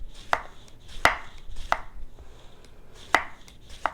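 Knife slicing a trimmed cucumber thinly on a board, with a handful of crisp, sharp cuts spaced irregularly, loud and close, with no talk.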